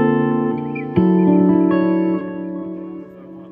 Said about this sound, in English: I can combine the two delays.